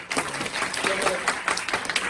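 Students in a chapel service applaud a professor's introduction, a dense wash of many hands clapping steadily throughout, with some voices mixed in underneath.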